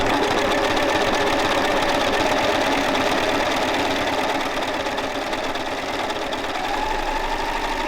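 A Lidl serger sewing machine whirs in a continuous, fast, even rattle, loud and close, with no voices.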